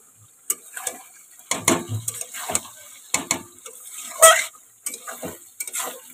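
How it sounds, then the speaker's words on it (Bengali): A spoon stirs country chicken curry in a cooking pot, giving irregular close clanks, scrapes and rattles with a faint sizzle between strokes. "এই যে মা রান্না করছে দেশি মুরগির তরকারি"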